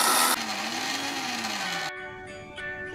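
An electric mixer grinder whirs loudly, blending ginger, green chillies and garlic cloves with a little water into a paste; the steady motor drone drops in pitch and then cuts out, leaving a quieter hum.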